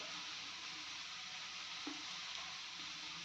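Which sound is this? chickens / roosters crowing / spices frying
spices frying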